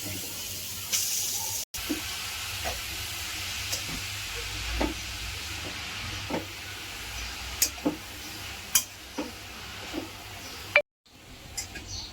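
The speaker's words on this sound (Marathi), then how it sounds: "गाजर तुपामध्ये परतून घेऊया।" Carrots sauté in ghee in a kadhai for gajar halwa, making a steady close sizzle and hiss broken by occasional stirring scrapes and taps.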